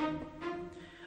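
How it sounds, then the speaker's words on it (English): Short staccato string notes from violins and cellos, played by a free plugin, give a brief, fairly quiet burst of a few clipped bowed tones. "it's basically short strings, violins, violoncellos, just a short sounds like this."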